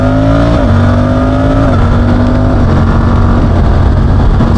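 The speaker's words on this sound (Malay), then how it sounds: "Suzuki di antara motosikal yang mempunyai quick shifter yang sangat-sangat smooth" A Suzuki V-Strom 800RE motorcycle engine revs hard and close, its pitch stepping up smoothly through quick-shifter gear changes without dropping off.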